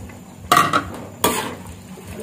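Long beans being stirred in a pot of boiling coconut-milk broth with shrimp, giving two short clattering stirring bursts close by over a low bubbling background.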